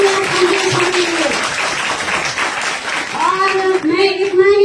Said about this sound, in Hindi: एक बार और जोर से तालियां संजीव सर के लिए।